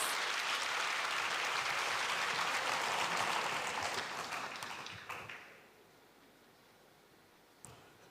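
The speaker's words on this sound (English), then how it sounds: "please give him a big round of applause" A summit audience at an agribusiness launch applauds a banking manager joining the stage, loud and full clapping that fades out after about five seconds into near quiet, with a single sharp knock near the end.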